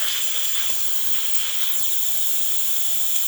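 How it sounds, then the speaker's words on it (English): Steady, loud hiss of steam venting from a DeLonghi Magnifica XS espresso machine after a tune-up, an even, continuous rush that holds without a break and has no talk over it. "And as you can see, the steam coming out of the machine, looking great."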